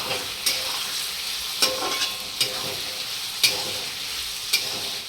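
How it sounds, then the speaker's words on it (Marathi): Tomatoes sizzle in hot oil in a pan while being stirred for a Marathi-style chicken keema, a steady frying hiss broken by sharp spoon scrapes roughly every second, close and fairly loud with no talking. "आपण टोमॅटो टाकून घेऊया टोमॅटो पण थोडा विरवळून द्यायचा तेलामध्ये असं"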